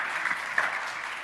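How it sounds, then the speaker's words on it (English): An audience applauds at the close of a business fireside chat, a brief burst of dense clapping from a crowd that stays steady without rising or fading. "I think a big round of applause for Maurice from Emirates NBD"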